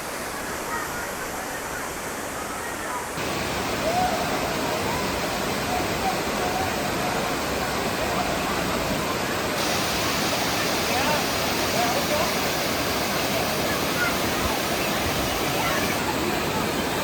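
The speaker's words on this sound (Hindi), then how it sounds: "छोटा सा वाटरफॉल है ये, और ये नेचुरल वाटरफॉल है, ऊपर से पहाड़ों का पानी आता है।" A small natural waterfall fed by mountain water at Tamhini Ghat near Pune roars in a loud, unbroken rush close by, with no talking over it.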